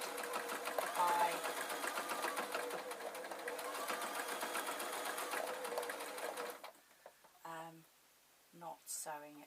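A sewing machine stitches a tweedle muffler in a continuous rapid whirring run, close and steady, then stops as a person starts talking.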